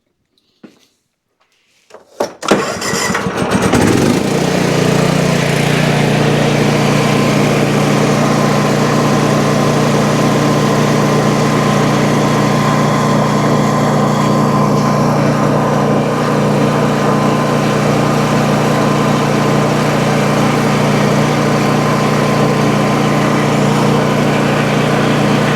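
A Toro zero-turn mower engine, running with its shroud removed, starts up after a couple of seconds of quiet and then idles in a steady, loud, close drone for the rest of the time.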